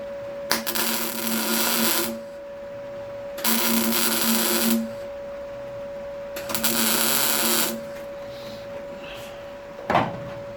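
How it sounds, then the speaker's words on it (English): Welding on the body of a MKV Ford Cortina during a Carbodies restoration, three separate bursts of a steady buzzing crackle each lasting a second or two with a constant hum beneath, followed by a brief clunk. "I'm going to put a little bit in the centre here, a bit of weld in the centre"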